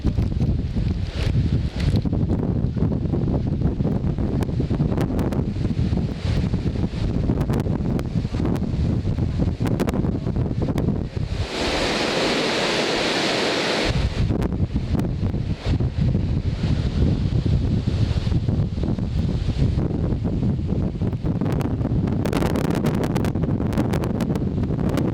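Hurricane Sandy's rain and wind roar steadily for the whole stretch, with gusty buffeting against the microphone, a brief quieter lull in the middle, and no voices.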